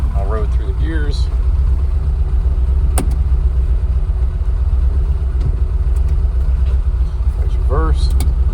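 A 1977 Ford Escort RS2000 MK2 rally car with a rebuilt 2.0L Pinto engine rumbles loudly nearby, a steady low droning idle with brief blips of revving, while someone talks over it.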